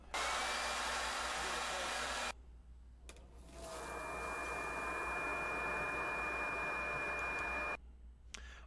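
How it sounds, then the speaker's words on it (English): Loud, steady leaf blower roar blowing through a dryer vent that cuts off, briefly clicks, then ramps back up and runs steadily before stopping again, with a thin whine underneath. "So he basically hooked up a leaf blower to it"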